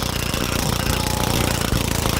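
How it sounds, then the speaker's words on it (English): The Red Artichoke drone from the video game Plants vs. Zombies Garden Warfare 2 gives a harsh, rapid, rattling buzz, like a fast jackhammer, that stays constant and loud throughout. "we get it sounding almost exactly like the Red Artichoke drone"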